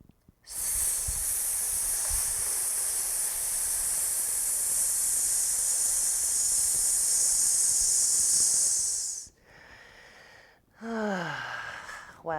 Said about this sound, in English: So that's hissing, all fours plank.